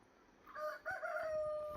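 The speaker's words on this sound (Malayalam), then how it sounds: "അതാരാ കൊക്കരക്കോ വെച്ചേ?" A rooster crows once at a moderate distance, a drawn-out call rising above a steady outdoor background, heard alone with no talking.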